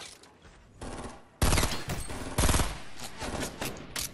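Gunfire from the game Fortnite comes in loud bursts of rapid shots, sharp and close, separated by quieter stretches with mechanical clicks and no talking.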